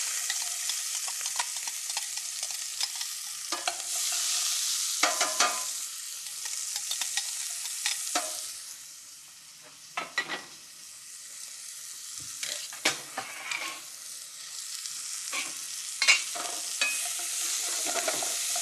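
Onions sizzling and frying in a pan after browning lamb for a braise, a continuous moderate hiss with repeated scraping and stirring clicks from a utensil, close by.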